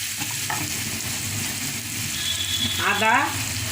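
Chana dal simmering with tomato sauce in a pan, stirred steadily with a spoon, giving a continuous sizzle and scraping that swells slightly near the end alongside a brief faint voice.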